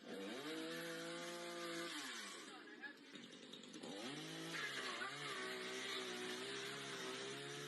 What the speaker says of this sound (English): a chainsaw busting through someone's ceiling